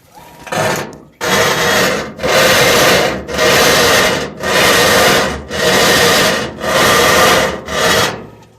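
Washing machine tub scraping loudly on the bottom of the cabinet, a harsh grinding rasp repeating in seven regular strokes about one per second, with brief silences between and close to the listener.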